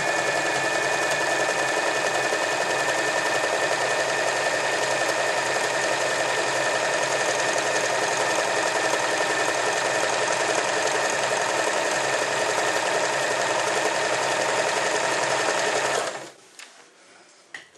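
An Elna 318 sewing machine runs steadily at close range while sewing an overlock stitch, a continuous fast mechanical whir that stops abruptly near the end.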